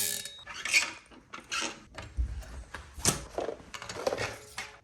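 Bontrager wheel with a DT 180 hub freewheeling, its ratchet giving quiet, quick clicking bursts that come and go in uneven spurts, close and alone.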